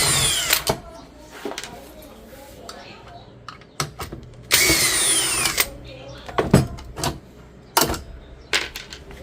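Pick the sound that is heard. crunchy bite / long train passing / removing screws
removing screws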